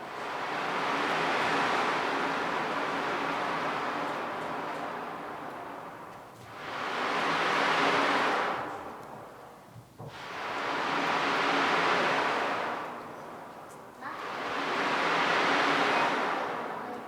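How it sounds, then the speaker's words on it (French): Ocean waves wash up on a beach in slow, regular surges, each swell rising to a broad hiss and fading back, a steady moderate roar with no voices. "sur la plage, on entend les vagues"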